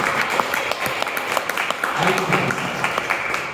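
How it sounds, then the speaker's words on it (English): An audience at a talk on life, growth and success applauds for a speaker: a moderate patter of clapping hands that runs throughout, with voices talking over it. "Please give a big round of applause for Preethi."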